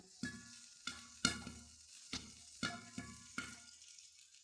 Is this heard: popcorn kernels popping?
yes